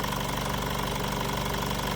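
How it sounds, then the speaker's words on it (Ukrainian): Swiss-market Honda CR-V engine idling under the open hood with the air conditioning compressor running, a steady, even mechanical hum with a fast regular ticking pulse, close and continuous. "Зараз включений компресор кондиціонера, він працює, двигун працює рівненько."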